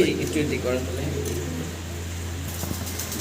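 Fancy pigeons coo softly, low and rounded, beneath someone talking nearby.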